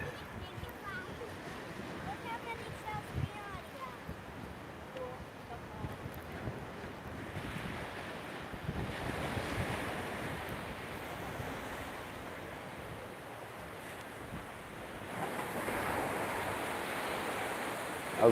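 Ocean waves break and wash continuously at Madeira Beach, with steady surf hiss rising and falling in several swells, and wind buffeting across the microphone.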